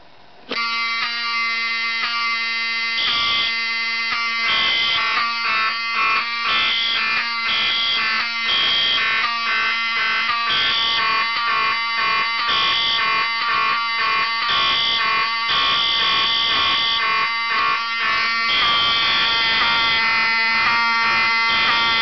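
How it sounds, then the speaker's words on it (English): Fire alarm system set off from an MS2 pull station on a 5001 DC panel, sounding a loud, steady electronic horn tone with rhythmic pulsing strobe-like chirps layered on top, continuing throughout. "let's activate the 5001 DC with the MS2 pull station."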